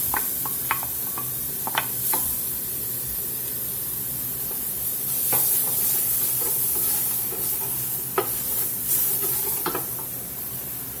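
Chopped onion hits a hot pot for Louisiana chicken and dumplings and sizzles loudly and steadily up close, with scattered clinks and stirring scrapes throughout.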